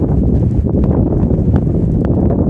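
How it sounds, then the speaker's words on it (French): Loud low rumbling gusts buffet the microphone continuously, a heavy roaring wind with occasional rustling. "Merci le vent."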